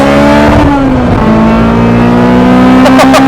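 A Honda Jazz fitted with a K20 Type-R engine accelerates hard through the gears from inside the cabin, loud and close, with a brief shift dip and the engine note climbing steadily.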